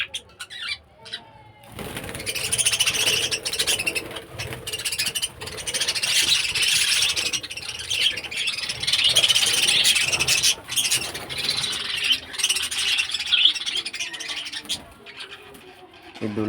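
Small birds in a home aviary flutter and chirp almost continuously, a dense, busy chatter of calls and wing flaps close by for most of the stretch.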